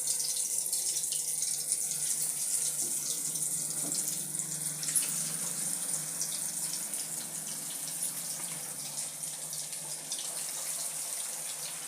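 Potato cutlets fry in oil in a pan on medium flame, giving a steady, close hiss of bubbling and sizzling with no talk over it.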